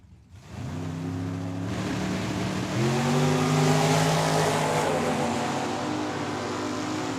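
A Fox body Mustang and a dragster launch down the Tucson Dragway strip, loud engines revving and climbing in pitch through the gears, roaring close and steady throughout.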